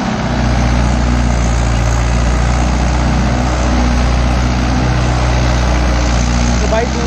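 A Mahindra Yuvo 575 4WD tractor works a rotavator in wet, soft ground, its engine holding a loud, steady, low diesel drone throughout while someone talks over it.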